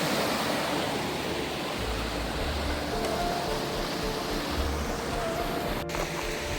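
Bear Creek in the lush Sierra forest at about 3,000 feet, a steady broadband rush of flowing water, moderately quiet and continuous, with no one talking.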